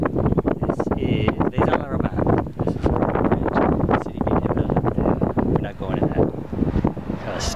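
Steady wind buffets the microphone while cycling on a road in Provence, a constant rough roar through the whole stretch with a voice talking under it.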